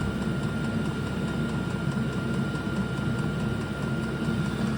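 A diesel heater running on kerosene in a workshop gives off a loud, continuous low roar with a steady fan-like hum, unbroken throughout.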